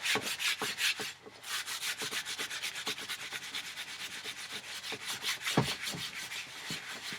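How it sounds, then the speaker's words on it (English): Steel wool scrubs rust off a motorcycle exhaust pipe in quick, even back-and-forth strokes, a close, continuous raspy rubbing rhythm with a short pause near the start. "Now you can really hear that rust coming off."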